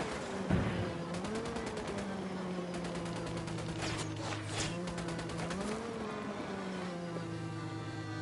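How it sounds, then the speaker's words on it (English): Bursts of automatic gunfire crackle repeatedly in a Ghost Recon: Wildlands firefight, the rapid rattles riding over a constant droning vehicle engine hum. "Opening fire."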